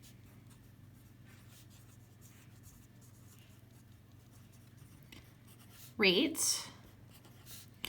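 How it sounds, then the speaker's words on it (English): Pen scratches briefly on paper while someone notes down a calculated rate, a short burst of close writing strokes over a quiet room hum, with speech around it. "So I'm going to write that down."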